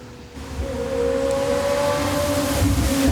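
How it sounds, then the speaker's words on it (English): V12 sports car engine roaring up the hill climb at the 2024 Goodwood Festival of Speed, a sustained, steady drone that builds slightly and holds at moderate distance with no talk over it. "let's have a little quick listen into the roar of the V12 that makes its way up the"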